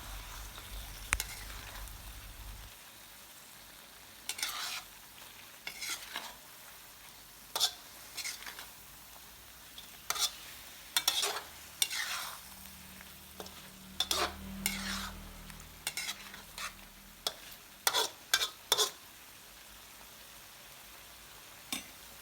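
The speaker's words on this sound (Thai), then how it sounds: "ตามด้วยน้ำปลา แล้วผัดให้ทุกอย่างเข้ากันค่ะ" Catfish stir-fried in a pan with curry paste and fish sauce, heard as a steady run of scraping stirs and soft sizzling, the spatula strokes coming in irregular bursts close by with no talking.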